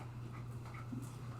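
A nine-month-old Pug Malinois mix puppy pants close by in steady, even breaths over a low constant hum, with no voices.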